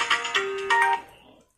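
Phone ringtone from a husband calling, a short bright electronic tone sequence with a sustained steady pitch that rings loudly for about a second, then fades away.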